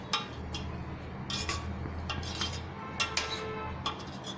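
Rasgulla stirred with a spoon in a pot: repeated metallic scrapes and clinks against the pot's sides in an uneven rhythm, close and moderately loud over a steady low simmer.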